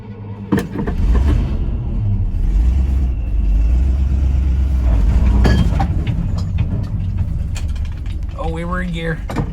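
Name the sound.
Chevy C60 truck engine starting and running after choke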